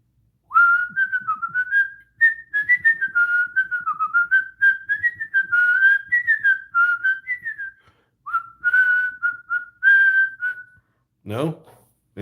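A person whistles a lively melodic tune alone, in quick clear phrases with short pauses, close and loud, ending with a brief burst of other sound.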